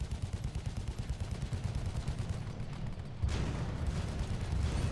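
Rapid gunfire from mech units in the free-to-play mech game Airmech Strike, a dense, steady rattle of shots that grows louder and heavier about two-thirds of the way through, with no talking.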